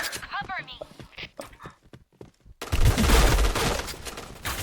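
A K-2 rifle fires in the shooter game Point Blank: a dense, loud burst of rapid shots takes over abruptly after a stretch of excited talking.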